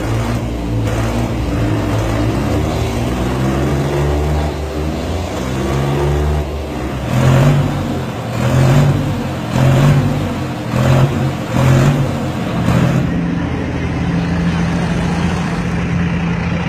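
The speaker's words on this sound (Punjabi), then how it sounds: "ਟਰੈਕਟਰਾਂ ਦੇ ਵਿੱਚ ਵੱਡੇ ਇੰਜਣ ਦਿਖਾਏ ਜਾ ਰਹੇ ਆ" Large tractor engines, built with well over the usual 55 horsepower, rev hard in a series of loud surges over a steady rumble, with no talk.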